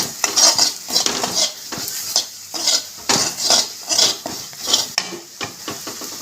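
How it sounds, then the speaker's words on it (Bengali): Repeated scraping and clinking of a spoon stirring spices with turmeric in a metal pan, an irregular rhythm of strokes over a soft sizzle. "আবার একটু কষিয়ে নেব হলুদের গন্ধটা কাটানোর জন্য"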